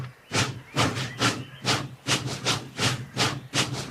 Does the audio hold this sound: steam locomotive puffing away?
yes